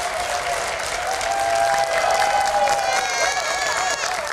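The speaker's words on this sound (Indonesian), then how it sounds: "Boleh tepuk tangannya yang paling meriah." Applause from the audience at a public debate for the 2024 Sorong regent and deputy regent election, a dense, steady wash of clapping that fills the whole clip with a voice faintly audible beneath it.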